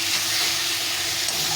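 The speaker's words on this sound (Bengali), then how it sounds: "এভাবে ভালো করে কষিয়ে নিতে হবে, নিয়ে তারপরে জল দিতে হবে" Spices for shol fish curry fry loudly in hot oil, a dense, continuous close-up sizzle and hiss with stirring scrapes and no voices.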